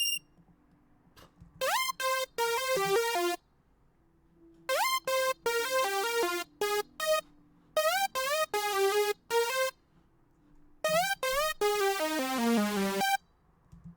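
A bright, detuned mono synth lead with legato portamento plays short phrases at about 111 BPM, pitch slides gliding into the notes, separated by brief silences, with no voices.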